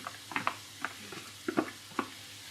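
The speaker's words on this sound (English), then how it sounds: "That's onions. Red onions. So we're sweating them then." Red onions sweating in a frying pan give a soft steady sizzle, broken by several close, light scraping stirs of a utensil against the pan.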